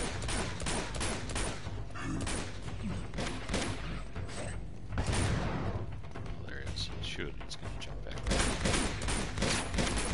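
Rapid bursts of gunfire from the video game Uncharted 2, loud and near, dense rattling volleys running nearly continuously with mechanical clanks layered in, while a voice speaks over the action.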